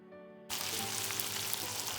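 Prawns in a spiced masala mixture with jeera powder hit a hot pan for a Manipuri spicy prawn fry, breaking into a loud, steady sizzle after a brief quiet start and frying vigorously to the end.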